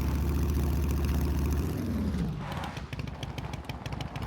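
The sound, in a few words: motorcycle engine riding, from the video game SCUM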